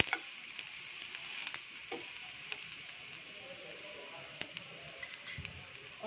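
Mustard seeds and garlic hit hot oil in a pan for masala upma, giving a faint sizzle with scattered small pops and crackles. A clink rings out now and then.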